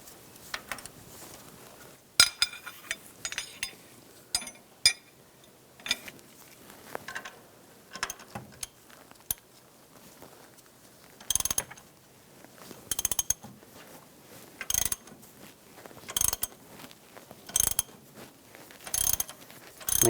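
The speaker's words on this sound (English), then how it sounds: "With a crankshaft pulley removal tool, a 3-jaw puller that works." A 3-jaw puller draws the crankshaft pulley off a 2007-2014 Cadillac Escalade 6.2L V8, with a ratchet wrench clicking in short, regular bursts separated by brief pauses, close and clear.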